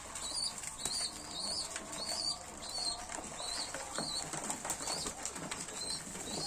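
Flock of birds flapping wings, a steady rustling flutter of many wingbeats with repeated chirps on top, close and continuous throughout with no talking.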